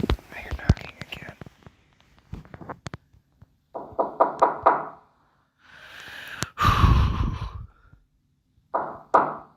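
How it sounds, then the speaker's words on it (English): Knocking on a door at night in a scary scene, heard as several quick bursts of raps alongside whispers, gasps and shaky breaths in a quiet, tense setting. "The moment he hears the creepy knocking noises coming at the door"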